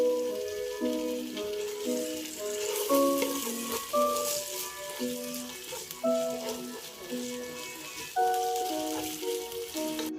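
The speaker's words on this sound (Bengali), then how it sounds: "পেঁয়াজগুলো ভাজা হয়ে গেলে এতে দিয়ে দিব আদা রসুন পেস্ট," Ginger garlic paste fries with onions in a pan for egg khichuri, a steady close sizzle with occasional stirring scrapes, beneath background music.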